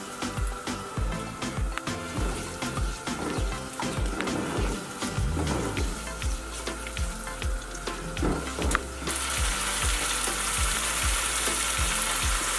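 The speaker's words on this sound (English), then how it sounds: "I am mixing up all the seasoning and the masala, everything here to fry it up in the oil." Masala and seasoning for Guyanese chicken curry fry in hot oil with a dense, steady sizzle and crackle, broken by rhythmic scraping and stirring knocks of a spoon in the pot, close and continuous.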